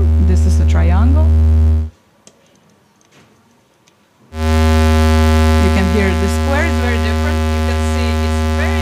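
A triangle-waveform tone from a modular synthesizer hums loud and steady with rich harmonics and warbling pitch sweeps, drops out briefly, then resumes.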